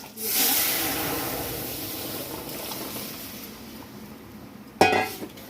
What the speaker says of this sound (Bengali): এই মুগ মুসুর ডালে লঙ্কা ফোড়ন দিলাম, লঙ্কা ফোড়ন দিলাম, আর এই রসুন ফোড়ন দিলাম।